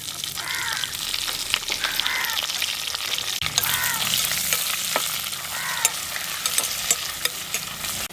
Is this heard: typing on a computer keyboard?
no